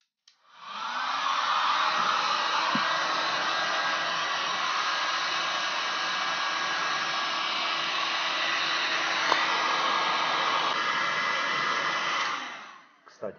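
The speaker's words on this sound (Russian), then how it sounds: "Для этого у меня есть суперфен, которым я буду сушить эту херню." A hair dryer blows steadily and loudly at close range to dry sheets of paper laid on newspaper, a broadband whoosh that starts up, holds constant for about eleven seconds, then switches off.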